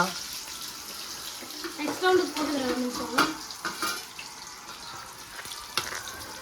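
Potato strips for homemade French fries sizzle in hot oil in a pan, a steady crackling hiss broken by occasional scraping stirs, fairly faint, with a voice talking over parts of it.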